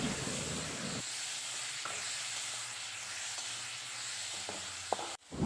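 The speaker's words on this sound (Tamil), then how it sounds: "தக்காளி சேர்த்துட்டு இதுவே நல்லா 2 நிமிஷம் நல்லா வதங்கட்டும்." Tomatoes and onions sautéing in a hot pan, a steady close sizzle and hiss with faint stirring clinks and a scrape near the end.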